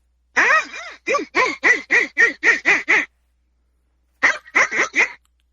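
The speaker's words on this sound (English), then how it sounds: "award-winning acrylic duck call" An acrylic duck call blown in two bursts of short, honking quacks, eight in a quick run, a pause, then four more, loud and close with no talking.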